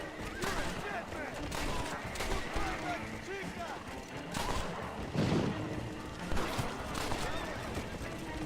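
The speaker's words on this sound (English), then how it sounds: "Why did they shoot at me?" Scattered gunshots in the Western game Red Dead Redemption ring out amid game ambience and hoofbeat-like thuds, while someone talks over most of it.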